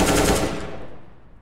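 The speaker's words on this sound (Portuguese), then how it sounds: "Vou varar de AK." AK rifle fire in the Counter-Strike video game, a loud rapid burst of shots that quickly trails off into a fading echo, with no talk.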